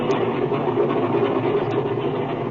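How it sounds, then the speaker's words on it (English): A 1937 airplane engine idles in a radio drama, a steady low drone with a faint rattle holding even and close throughout, with no voices over it. "The engine's been warmed up already."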